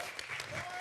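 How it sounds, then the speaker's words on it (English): An audience claps at Black Fest 2025 to honor a supporter of Black developers and youth, a short steady burst of applause running the whole moment without a break. "Can we give him a hand clap?"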